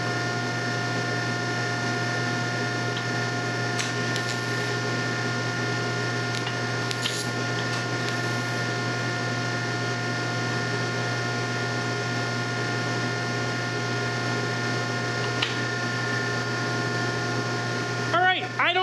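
A Miller Syncrowave 300 TIG welder with a Coolmate 20 chiller welds, producing a steady, close electrical buzz with a humming undertone throughout, broken by a few faint clicks and brief crackles near the end.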